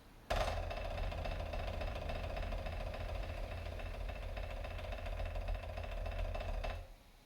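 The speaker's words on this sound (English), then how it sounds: "how to do the multiple bounce roll, also known as a buzz roll" A sustained snare drum buzz roll, a dense continuous rattle held steadily for several seconds before stopping abruptly.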